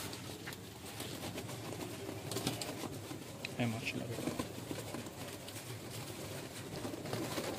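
White pigeons coo softly through the clip at close range, their low calls running under steady talk and exclamations from people nearby.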